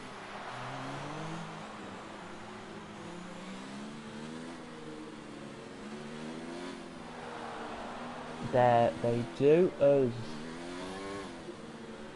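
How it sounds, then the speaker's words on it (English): F1 race cars lapping the Spanish circuit in the F1 2019 video game, a steady engine drone running under continuous commentary from someone talking throughout. "we're watching the cars head around now"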